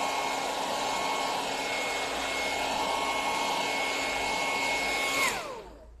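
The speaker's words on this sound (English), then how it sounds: "I'm going to hit this with the hairdryer and see how we go." A hair dryer blows steadily and loudly up close while drying stencil rub-on transfer paint on a farmhouse sign, a constant whirring hum that runs unbroken, then winds down and cuts off near the end.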